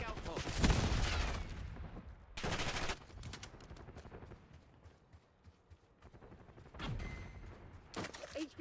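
Bursts of video game gunfire in a multiplayer match, loud rapid volleys cutting in and out between quieter gaps, with brief pauses and a final burst near the end.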